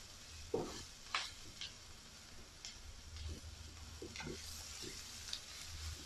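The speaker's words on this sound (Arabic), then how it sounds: "هدي تشويحه كده حلوه للبصله" Onion sautéing in a pan for a sausage dish: a soft, steady sizzle with occasional stirring scrapes and light ticks of a utensil against the pan, fairly quiet and close, with no talking.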